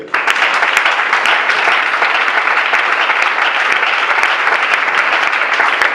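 A church congregation applauding to acclaim the Lord, loud sustained clapping from many hands filling the room steadily from start to finish.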